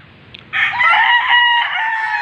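A rooster at a small chicken farm lets out a single loud, close crow, one sustained call lasting over a second after a brief quiet start.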